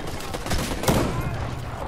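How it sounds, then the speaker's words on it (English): A mythic shotgun firing in a video game, a short burst of blasts in quick succession, loud and close, with a heavier shot near the middle. "The mythic shotgun."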